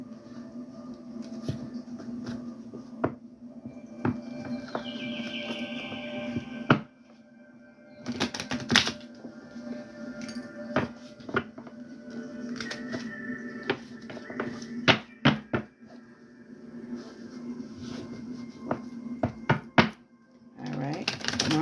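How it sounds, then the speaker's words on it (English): A deck of tarot cards is shuffled in bursts of crisp riffling and light tapping, close and moderately loud, while a voice keeps talking over it. "Let me go ahead and shuffle the deck."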